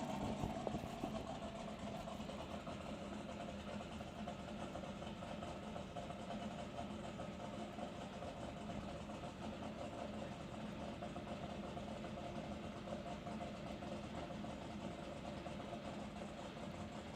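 Dense mechanical drone inside a drag race car, a steady engine rumble and rattle that stays loud and unbroken throughout.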